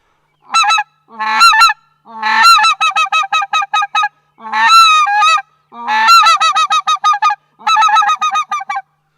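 Loud, excited white-fronted goose (specklebelly) calling from a handheld call, with rapid bursts of high yodeling notes strung together in quick runs between short pauses.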